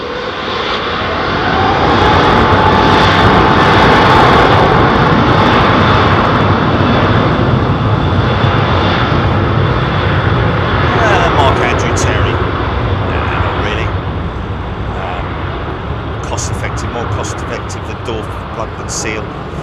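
A British Airways Airbus A380 jet at Heathrow Airport produces a loud, continuous broadband engine roar that holds steady throughout and eases slightly toward the end, with a voice talking over it.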